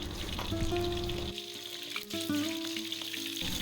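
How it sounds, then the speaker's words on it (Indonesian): Garlic and shallots frying in oil in a wok for a jengkol dish give a steady, loud sizzle with bursts of crackling and occasional stirring, close up and without talk. "Masih di wajan yang sama, kemudian kita masukkan bumbunya mulai dari bawang putih dan juga bawang merah."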